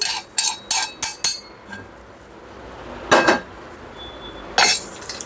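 Spices being pounded in a kitchen, heard as a handful of sharp, ringing metallic strikes in an uneven rhythm, with a few more knocks after a pause, close and fairly loud.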